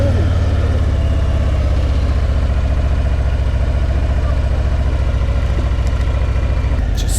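A Harley-Davidson Fatboy 114 motorcycle with a roughly 1,800 cc engine rumbles loudly and steadily close by, its low throbbing idle pulsing evenly throughout with no clear rise in revs.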